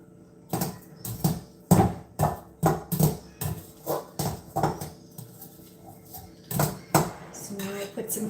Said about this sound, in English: Mix this salad together good. With the onions